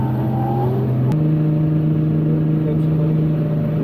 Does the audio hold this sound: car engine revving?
yes